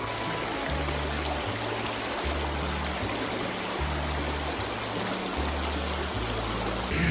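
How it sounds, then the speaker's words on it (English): Water flowing in a shallow limestone stream in Florida, a continuous soft rushing trickle close by with low rhythmic rumbling underneath and no voices. "It's really fun to walk through these limestone streams."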